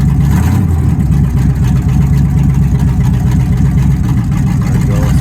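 A 1951 GMC 100 truck engine runs with a loud, close, throbbing low rumble that stays steady throughout.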